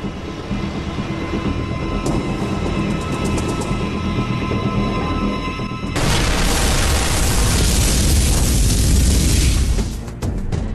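A massive bomb blast outside a nightclub in the Bali resort of Kuta erupts as a sudden, loud, broad roar that cuts in midway over a low hum and then rumbles on heavily before fading.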